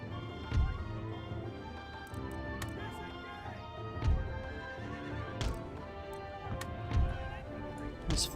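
Horses neighing amid a battle in the video game Empire: Total War, several whinnies rising over a dense, fairly quiet din of clattering hooves and distant thuds.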